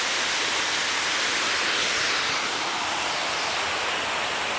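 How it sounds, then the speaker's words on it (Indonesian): A waterfall roars as a steady, loud, broadband rush of falling water, unbroken and without voices. "Lihat air terjun bos."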